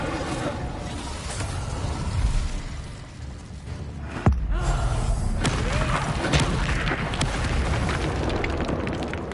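A fire spell cast in Hogwarts Legacy: a sharp booming burst near the middle, followed by a dense, roaring rush of flame and noise that holds steady to the end.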